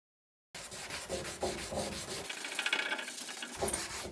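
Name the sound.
sanding a painted fender with a sanding block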